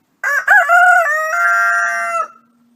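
A single loud, close rooster crow rings out clearly for about two seconds, rising and then holding a long drawn-out note before cutting off into silence.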